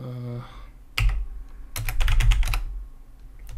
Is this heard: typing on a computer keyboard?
yes